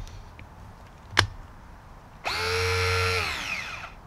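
Battery-powered Burndy 6-ton handheld hydraulic crimper: a single sharp click, then its motor whirs up loudly and close, its pitch sliding down and then steadying, with no talking.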